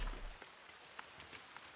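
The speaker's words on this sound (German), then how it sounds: "jetzt wird natürlich auch der Regen bei mir ganz schön laut." Rain falling in the survival video game The Forest, a steady soft patter with scattered brighter drop ticks, fairly quiet and continuous with no talking.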